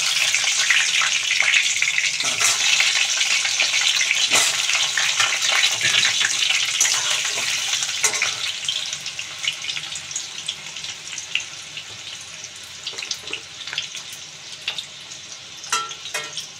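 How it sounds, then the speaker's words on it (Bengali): Potatoes sizzle and crackle steadily in hot oil, the frying loud and dense at first and then settling to a softer, even hiss with scattered pops; cooking for an onion mutton dish, no voices. "এই তেলের মধ্যে এখন আলুগুলো দিয়ে দেবো।"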